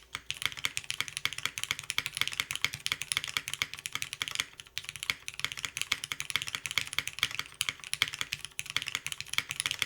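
Rapid, continuous typing on a 60% mechanical keyboard with an FR4 plate, with crisp clacky keystrokes close up and a steady rhythm, no voices.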